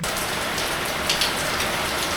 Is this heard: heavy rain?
yes